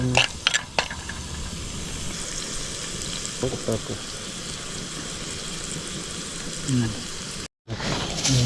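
Masala with onion sizzling steadily in a pan over a campfire in a forest campsite at night, a close continuous fry with occasional stirring and scraping, with voices talking over it.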